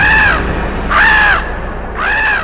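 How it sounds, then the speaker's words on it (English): A crow caws three times in a cartoon retelling of the childhood of Baal Ganesha. The calls are loud, harsh and close, spaced about a second apart, over a low background hum. "He did so to shoo away the crow."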